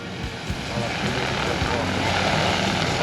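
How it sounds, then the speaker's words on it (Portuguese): A DJI T20 agricultural spraying drone flies a demonstration at an outdoor drone expo, its large propellers giving a loud, steady whirring roar that builds and holds throughout, with people talking nearby. "É um drone que é perigoso, eles estão pedindo para afastar aqui da pista. As hélices dele é igual de avião"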